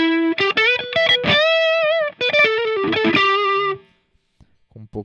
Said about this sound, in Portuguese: drive baseado aí no Blues Breaker Marshall